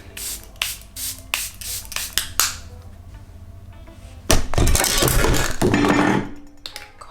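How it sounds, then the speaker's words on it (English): A few quick sprays of facial mist hiss out from a pump bottle, close by, after some scattered clicks and handling taps; no one speaks. "I'm just gonna spray it real quick."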